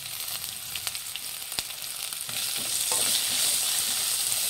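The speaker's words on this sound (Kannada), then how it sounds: "ಇದನ್ನು ಮಿಕ್ಸ್ ಮಾಡಿ ಫ್ರೆಂಡ್ಸ್ ಮೀಡಿಯಂ ಫ್ಲೇಮಲ್ಲಿ ಇಟ್ಟು ಫ್ರೈ ಮಾಡಿ" Lentils for holige saaru fry in a pan over a medium flame, giving a steady close sizzle that grows louder toward the end, with occasional scraping stir clicks and no talking.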